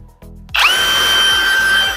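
A Parkside Performance PPAKF 12 A1 cordless 12-volt edge router, first heard as a few low clicks before the motor spins up sharply to a loud, steady high-pitched whine that holds close and constant.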